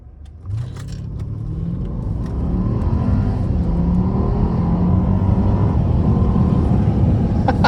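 A Mercedes S560 engine rumbles inside the cabin and steadily builds in pitch and loudness as it accelerates, with a light metallic jingle near the start.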